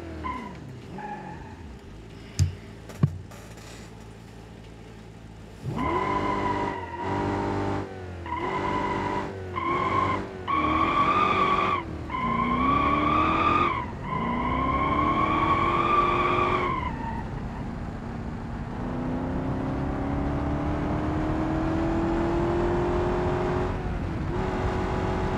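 A Hemi V8 swapped into a Miata in the BeamNG driving game: after a few sharp knocks, the engine revs hard through repeated rising, cutting-off bursts, then settles into a long, steady, climbing drone with tire squeal, loud and close.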